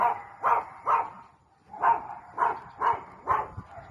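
Small dog in a residential village yapping in quick bursts, three sharp barks, a short pause, then four more, close and loud with little else around.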